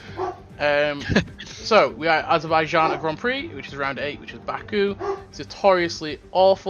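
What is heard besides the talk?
dog barking in the background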